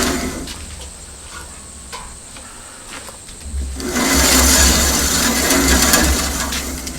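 Band blade on a Norwood HD36 sawmill spun by hand: low rumbling hum at first, then a rising whooshing, whirring rush as the wheel turns faster, close and continuous.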